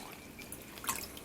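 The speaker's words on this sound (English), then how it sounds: "I'm going to go ahead and fill it with water." Bottled water trickles and drips into a glass jar for a marimo moss ball aquarium, a faint, soft pouring with a brief louder splash near the end.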